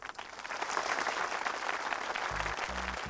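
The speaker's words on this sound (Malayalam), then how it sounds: "കയ്യടി നിർത്താൻ പറയൂ" Clapping from a gathered crowd in a dramatic scene, a dense, sustained round of applause at even strength, with a few low thumps near the end.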